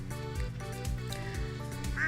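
Duck quacks from a Stardew Valley farm coop, several short nasal calls in an uneven rhythm over the game's steady background music, close and clear.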